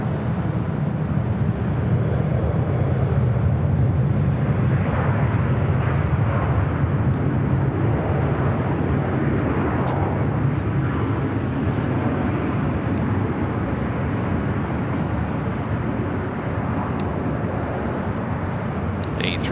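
A WestJet Boeing 737-700 arrives to land on the north side at Los Angeles LAX, a steady broad jet roar that fills the whole stretch with a strong low rumble underneath.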